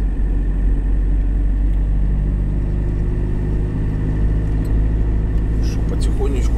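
A heavy truck pulls away slowly across a frozen parking lot, its engine a steady low rumble that stays loud and constant throughout, with faint cabin noise over it.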